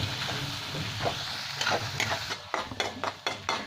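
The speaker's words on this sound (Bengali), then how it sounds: "এক চামচ বিরিয়ানি মশলা দিয়ে দিলাম দেড় চামচ আর খুব ভালো করে কষে দিচ্ছে ওই মশলাটা" Biryani masala is stir-fried in hot oil with a continuous close sizzle, while a spoon scrapes the pan in quick repeated strokes toward the end.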